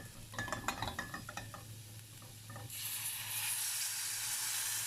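A creamy sausage soup being stirred in a pot: a few rhythmic scraping strokes up close, then a steady bubbling sizzle and hiss that takes over, with no voices.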